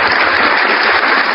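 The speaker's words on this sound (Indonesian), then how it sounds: "tepuk tangan dulu guys." Brief, loud burst of applause from a crowd at an Islamic gathering, a dense, continuous clapping wash that fills the short moment evenly without breaks.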